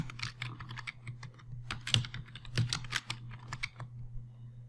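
A password being typed on a computer keyboard: quiet, close key clicks in a quick uneven run over a low electrical hum, with no voices.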